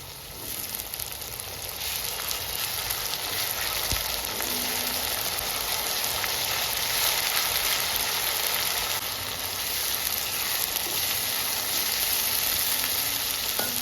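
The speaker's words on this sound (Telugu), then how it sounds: "ఉల్లిగడ్డ బాగా ఫ్రై అయిందండి అల్లం వెల్లుల్లి పేస్ట్ వేస్తుందా" Onions frying with ginger garlic paste in a pan, a continuous loud, dense sizzle throughout with faint occasional stirring, no voices.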